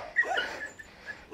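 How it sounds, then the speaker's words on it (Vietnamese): Chained dogs at a Dao family's house in a remote mountain village whimper and yip with short, high, strained cries, near and fairly loud, with a few brief bursts. "May quá cái bọn chó này nó xích rồi."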